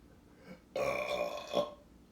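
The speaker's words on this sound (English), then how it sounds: "Ooh, burping." A single long, loud burp rises suddenly and rolls on for over a second before tapering off, close to the microphone, with no talking over it.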